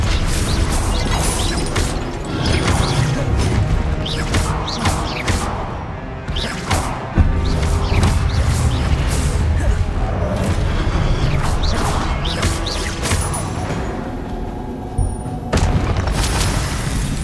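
Repeated Confringo spell explosions during combat in Hogwarts Legacy: loud booms and crashing impacts in quick succession, layered with clattering debris and mechanical clanks, sustained throughout without any talking.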